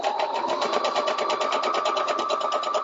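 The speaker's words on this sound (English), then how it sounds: "I'm going to put it into the machine, put the foot down, and I'm going to go ahead and stitch right across my first snowflake" A sewing machine runs a straight stitch across a fabric snowflake, a fast, even mechanical whir with rapid rhythmic needle pulses, close and continuous.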